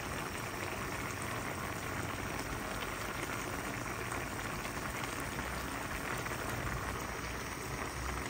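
Cauliflower and zucchini sauté in a pan, a loud, continuous hissing sizzle that stays steady and close throughout, with no talking.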